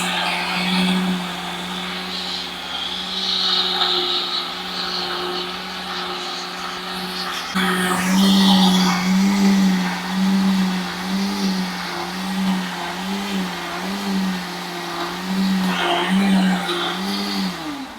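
A blender whirring through a smoothie, a loud motor drone with a steady pitch that jumps higher and harsher midway, continuing strongly to the end.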